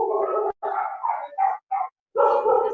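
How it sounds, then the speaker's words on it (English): A dog barks in a quick run of short, fairly loud yaps that break off and then start again, with a soft whimpering edge and no talk over it. "Some dog is there."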